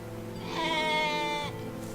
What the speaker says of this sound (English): Yeah, sheep. There are sheep.